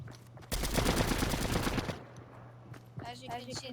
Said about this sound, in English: The MK7 is a very fast AR.